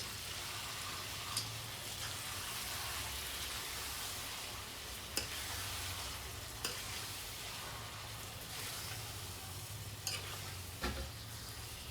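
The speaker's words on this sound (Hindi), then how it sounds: "अच्छी तरह से तेल में भून लेंगे पहला।" Chicken pieces fry in hot oil for a chicken korma, giving a steady close sizzle and hiss with occasional stirring scrapes and clinks, no voices over it.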